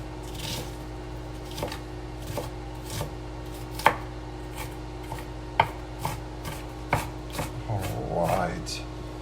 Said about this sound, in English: Alright, onions are almost cut.